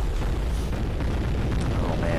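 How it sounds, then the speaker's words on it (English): Dense, rumbling blasts of explosions in the video game Shadow Warrior, a loud continuous roar of booms with low-end weight throughout. "Yeah, but these are video game explosions."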